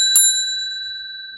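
A subscribe-button notification bell gives one bright ding that rings on and fades slowly, heard alone against silence.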